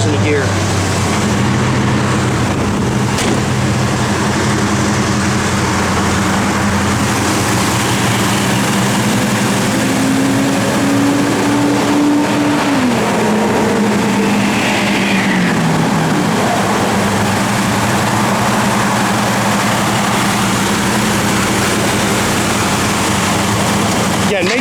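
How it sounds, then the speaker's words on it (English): A 1969 Plymouth GTX engine runs loud and steady at idle, its deep rumble swelling briefly as it is revved midway before settling back to a constant idle drone. "Just gotta try to rev it a little bit."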